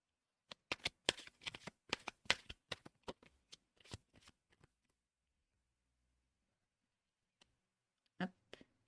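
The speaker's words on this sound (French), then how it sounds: "je vais mettre toutes les cartes et après, je vous ferai la guidance" Tarot cards are shuffled and laid out in a quick, close riffle of crisp card flicks over about four seconds, then near silence with one last soft slap of a card.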